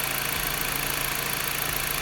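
A low-mileage LKQ replacement car engine idles steadily with a smooth, even hum and faint rhythmic pulsing, close by and loud, no voices over it.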